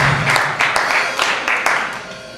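A church congregation claps together in a quick, loud burst of applause, several sharp rhythmic waves of hands under a crowd murmur and voices.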